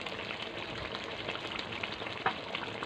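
Chicken and potatoes frying in oil in a pan for chicken kosha, a steady soft sizzle with faint stirring and no talk.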